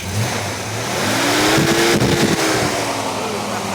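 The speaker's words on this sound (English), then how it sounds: "Keep it running, just keep it running, don't rev it up too much." A 1986 Ford Mustang 5.0 convertible's engine rumbling close by and rising into a rev, the pitch climbing and then easing back down to a steady run.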